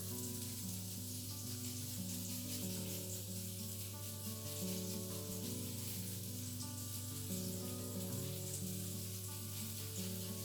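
Leeks sizzle and crackle in a pan with steady, continuous frying hiss and a low background hum, no voices.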